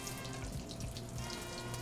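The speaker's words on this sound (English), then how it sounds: "See how quick they're frying?" Beignets fry in very hot peanut oil, giving a steady dense sizzle and bubbling crackle that carries on evenly throughout at a soft level, with nobody speaking.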